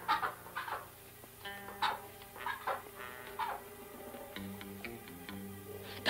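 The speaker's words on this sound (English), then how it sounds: "Don't step on the duck." A duck gives short, harmonic quacking calls in several separate bursts, fairly close, with a steady low hum underneath and no talking.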